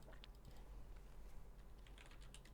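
Typing on a computer keyboard, a steady run of soft, quick clicks and taps at close range, fairly faint, with no talking over it.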